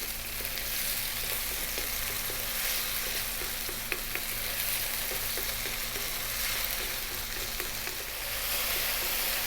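Tomatoes cooking down in a pan with salt, a steady close sizzle and bubbling with faint occasional clicks of stirring, no voices.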